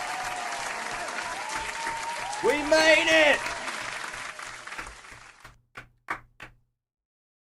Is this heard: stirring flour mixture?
no